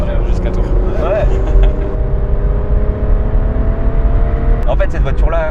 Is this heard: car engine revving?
yes